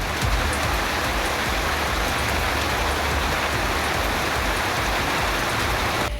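Heavy evening downpour of sudden summer rain in the Sirkazhi area of Tamil Nadu, a dense, steady hiss of drops pattering on surfaces, loud and unbroken throughout.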